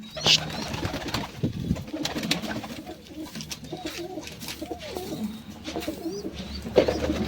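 Pigeons coo softly in a repeated, rolling rhythm nearby, with occasional wing flutters and faint chirps in the background.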